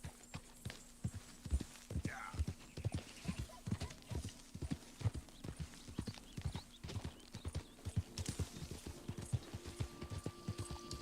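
Horse hooves clip-clop in a steady walking rhythm in Red Dead Redemption 2, a giant black horse near a Mahogany Bay Tennessee Walker, with a brief whinny early on and quiet talk over the hoofbeats.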